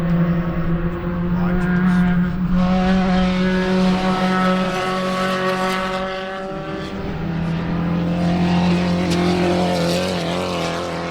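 Race cars in an SRF club race at Sebring drive hard on the last lap with a loud, sustained engine drone. The pitch shifts as they pass, then swells again near the end.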